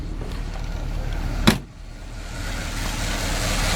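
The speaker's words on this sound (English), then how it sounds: "The motor is just as quiet as it can be." The engine of a 1956 Buick Special idles quietly and steadily. A brief click sounds partway through.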